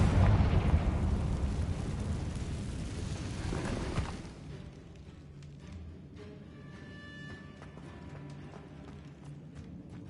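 A Confringo spell blast in Hogwarts Legacy on PlayStation 5, a loud, rumbling fiery burst that roars for about four seconds, then fades into quieter ambience with footsteps and light chimes.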